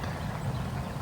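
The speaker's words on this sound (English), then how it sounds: "she's trotting her horse out and kicking him up" A horse trots during cow tracking practice, its hooves making a steady, dull clip-clop under a broad, noisy outdoor wash, with no talk.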